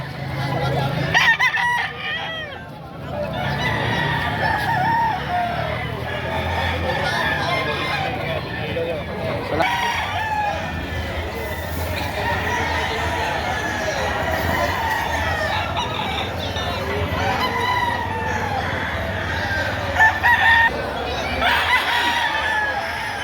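Roosters crow repeatedly amid clucking chickens at the Padre Garcia livestock market in Batangas, with crowd chatter and people talking close by throughout.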